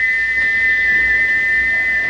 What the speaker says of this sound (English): he wouldn't stop whistling until two fitters climbed up and knocked his whistle valve in place